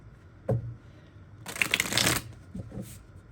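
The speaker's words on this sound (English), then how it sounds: "I'm going to shuffle here." Playing cards being shuffled during a tarot reading, a short riffle near 0.5 seconds followed by a longer, louder burst of dense ruffling and flicking, then a few soft taps as the deck settles; no talking.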